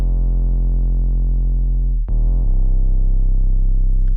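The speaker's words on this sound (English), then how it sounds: "to complement this more aggressive bass synth, especially in the low end, we're going to be adding this 808 sound" An 808 bass patch built in the Serum synthesizer for a pop production plays alone: a loud, sustained deep tone that drops in pitch, briefly breaks off, then returns even heavier and steady to the end.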